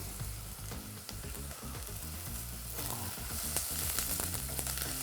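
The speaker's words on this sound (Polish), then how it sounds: "Do tego kroimy cienkie slajsy czosnku. Również przesmażamy razem z cebulą." Thin garlic slices fry together with onion in a pan, giving a continuous close sizzle with crackling bursts and occasional stirring scrapes.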